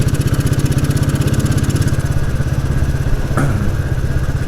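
Royal Enfield Bullet 350 motorcycle with a worn gearbox running steadily, a loud close thumping single-cylinder beat with mechanical clatter and a brief click near the end.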